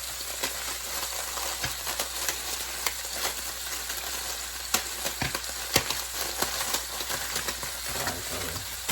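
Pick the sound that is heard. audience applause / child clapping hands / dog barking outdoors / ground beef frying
ground beef frying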